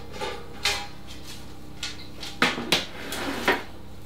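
Lemon meringue pie pastry is set down onto a baking sheet, giving a series of scattered hollow knocks and clatters of metal and dishes, fairly close and crisp with short pauses between.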